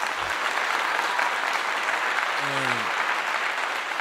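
Audience applause, a steady, even wash of clapping from a crowd that holds at the same level throughout, with a brief low tone sounding partway through.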